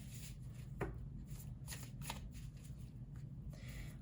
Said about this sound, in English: I get a lot of messages while I'm shuffling.